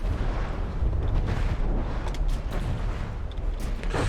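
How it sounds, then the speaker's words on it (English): Missile impacts and explosions from the Rapier in the naval combat game From the Depths, a dense, continuous barrage of rumbling booms and crackling bursts that overlap without pause, loud and close throughout. "lots of missiles coming in from that Rapier"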